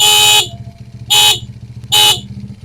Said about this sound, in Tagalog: Pag binuksan nyo uli ng isa, bubusina na tayo.